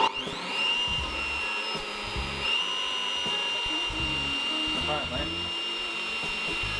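A Bosch PBD 40 bench drill press running at slow speed with a large Forstner bit, a steady high motor whine and grinding hum throughout, with a person speaking briefly over it.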